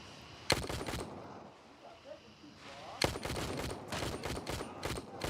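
Rapid automatic gunfire in the military shooter Gray Zone Warfare, heard as two loud bursts: a short volley early, then a longer sustained string of shots after a quiet gap with distant ambience.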